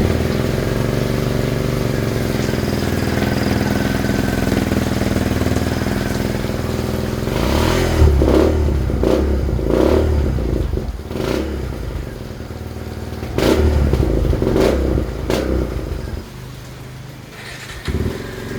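A motorcycle engine running on adulterated gasoline, a steady nearby drone with rough, uneven bursts of revving and sputtering throughout, alone without talk.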